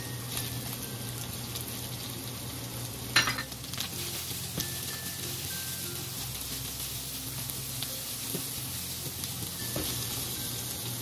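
Onion sizzling as it is sautéed in a pan for pancit, a continuous close hiss with a sharp clatter of stirring near the start and faint scrapes after, no voices.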